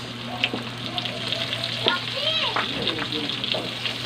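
Sliced onion rings fry in a pan for Filipino beefsteak, sizzling steadily beneath a voice talking, with occasional clinks and scrapes of stirring.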